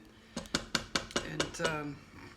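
Butternut squash soup being mixed in an Instant Pot: a spoon knocks against the metal pot about six times in a regular rhythm, clanking and ringing, then fades into a softer scrape.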